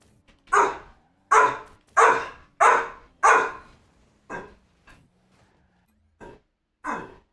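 A dog barks about eight times in short, loud, separate bursts, the first several evenly spaced and the later ones softer with longer gaps. No other sound joins it.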